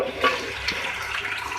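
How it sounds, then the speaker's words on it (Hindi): Half a cup of water is poured into beef green keema cooking in a pan, giving a steady, close splashing wash that runs throughout with a slight surge near the start. "इसमें थोड़ा मैं जो है हाफ कप पानी ऐड कर रही हूँ।"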